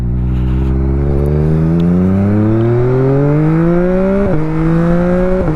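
A 2021 Yamaha MT-09 motorcycle in drive mode 3 accelerates hard and close, its engine note climbing steadily through the gears with a brief dip at a shift, loud and alone.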